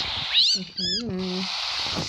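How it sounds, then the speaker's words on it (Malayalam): A house cat meows close by, a rising cry followed by a longer wavering meow, over a steady background hiss. "ഒരു പൂച്ചയാണ്."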